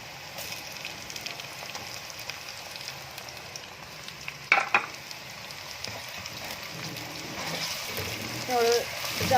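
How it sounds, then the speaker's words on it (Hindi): Ginger garlic paste fries in a pan with a steady crackling sizzle, broken by a brief clatter midway and rising hiss toward the end, with a voice talking faintly underneath. "तो अब हम इसमें डालेंगे लहसुन अदरक का पेस्ट"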